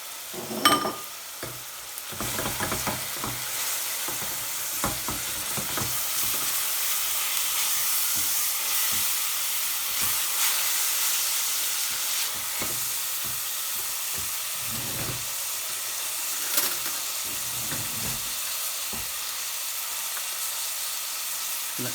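Ginger and garlic paste fries in a family pot for chicken madras, a steady sizzling hiss broken by occasional sharp pops and stirring scrapes, close and continuous.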